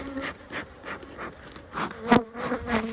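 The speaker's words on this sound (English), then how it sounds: "Almost completely full of bees." Honey bees hum and buzz inside an open, nearly full hive box, a close, busy drone with individual bees swelling louder as they pass.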